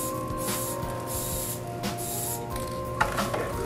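Aerosol spray hissing in bursts inside a bowl while building a beauty dish for a ring light, several steady broadband blasts of a few tenths of a second each, close to the mic, with a small knock near the end.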